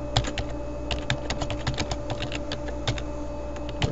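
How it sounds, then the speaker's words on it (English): Rapid, irregular clicking of keys as text is typed on a computer keyboard, close and clear with no talking. "I'm just going to type some text in here."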